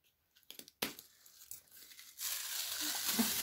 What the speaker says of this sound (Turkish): Makasla kes istersen yine.